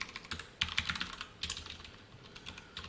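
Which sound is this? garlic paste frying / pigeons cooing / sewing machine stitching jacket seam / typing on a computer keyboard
typing on a computer keyboard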